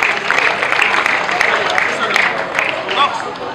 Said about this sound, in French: Applaudissez pour nos enfants.